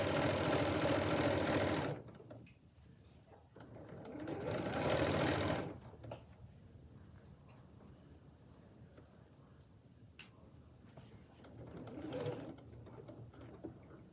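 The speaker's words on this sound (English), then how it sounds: "Just sewing down again." Domestic sewing machine stitching an apron: two loud, steady whirring runs of stitching separated by quiet handling noises, then a fainter, shorter run near the end, with no talking.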